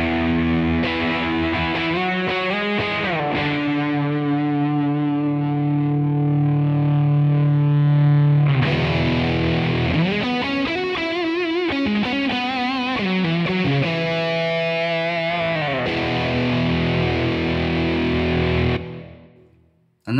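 An electric guitar played through the high-gain side of a JAM Pedals Pink Flow distortion pedal rings out with thick sustained chords, a pause, then more crunchy strummed chords that fade at the end.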